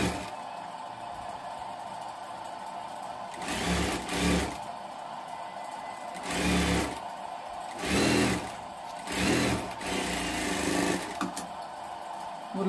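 A sewing machine stitching an umbrella runs in several short bursts of rapid mechanical whirring, separated by quiet pauses, close and fairly soft.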